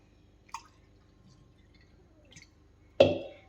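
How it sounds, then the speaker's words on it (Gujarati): Water is poured over brass puja utensils sitting in a thin vessel, giving a few soft drips followed by one sharp, close splash, against an otherwise quiet background. "ઉપરથી પાણી ફરતું રેડી દેવાનું છે"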